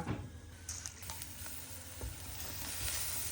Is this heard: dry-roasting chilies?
yes